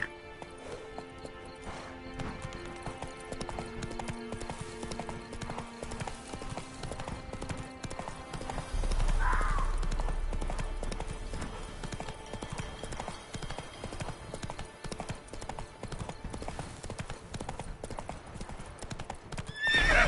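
Roach the horse gallops in The Witcher 3: Wild Hunt, with rapid rhythmic hoofbeats running continuously and a whinny partway through, heard over a faint music bed.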